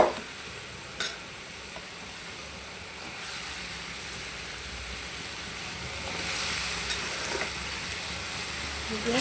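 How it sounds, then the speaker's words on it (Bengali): Fish is fried in spice masala, a steady close sizzle with a couple of sharp clinks of a utensil and a hiss that swells louder in the second half; no talking. "এখন আমি এই মশলা কষানোর ভিতরে মাছগুলো কষায় নিব।"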